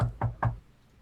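Three solid knocks on a door, evenly spaced and close, each a short dull thud, followed by quiet.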